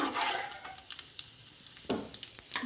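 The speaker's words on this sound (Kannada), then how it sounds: "ಸಾಸಿವೆ ಮತ್ತು ಜೀರಿಗೆ ಚಟಪಟ ಅಂದ ಮೇಲೆ ಕಡಲೆಬೇಳೆ ಇದ್ದೀನಿ ಹಾಕ್ಕೊಂಡು ಚೆನ್ನಾಗಿ ಹುರ್ಕೊಳ್ಬೇಕು" Mustard seeds, cumin and chana dal sizzling in hot oil for vegetable upma: soft, steady frying hiss with scattered small pops and crackles and light stirring scrapes, close and fairly quiet, no talking.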